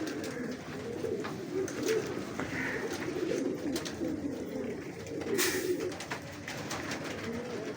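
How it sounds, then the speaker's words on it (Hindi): Healthy, active pet pigeons in a loft coo steadily throughout, a soft continuous murmur of overlapping calls with occasional wing or movement noises nearby. "माशाल्लाह बिल्कुल कबूतर मेरे हेल्दी एक्टिव हैं"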